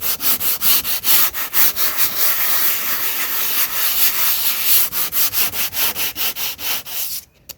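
Wood being sanded by hand in steady back-and-forth strokes, a close, rhythmic scratchy rasp that goes on without pause and stops near the end.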